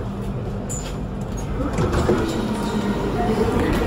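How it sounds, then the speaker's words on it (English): Train riding into the city toward St. James Station gives a steady loud rumble and rolling rail noise, with faint screech tones above and no clear talk. "taking the train into the city"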